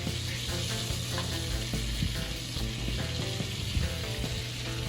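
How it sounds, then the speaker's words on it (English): Four tablespoons of butter melt in a hot pan with a steady, close sizzle and crackling pops, a continuous frying hiss with faint stirring clicks, no talk. "So I'm just going to add 4 tablespoons of butter"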